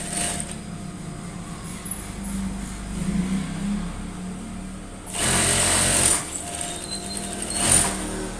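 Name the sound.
sewing machine stitching a dart on fabric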